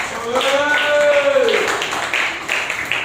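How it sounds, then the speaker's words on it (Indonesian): A classroom of students claps briefly, with scattered sharp hand claps mixed under and after a voice speaking, fairly close and loud. "Coba tepuk tangan buat Mbak Nadia."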